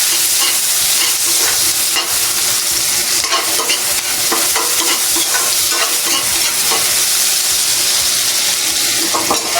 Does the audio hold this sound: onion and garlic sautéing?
yes